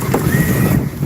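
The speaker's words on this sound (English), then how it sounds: "Feel that gust picking up a little bit." Wind gusting across a sailboat at sea on a Caribbean passage, a steady loud rush with low buffeting that eases slightly near the end.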